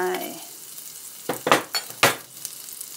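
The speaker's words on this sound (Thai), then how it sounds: "เริ่มต้นจากใส่กระเทียมลงไป" Brief sizzle and clatter as garlic hits a hot pan, a few sharp bursts of frying with metal utensil scrapes, close and fairly loud.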